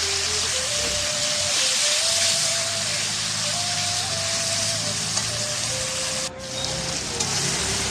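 Marinated meat frying in cumin paste in a pan, a dense, steady, rain-like sizzle close by, with faint background voices.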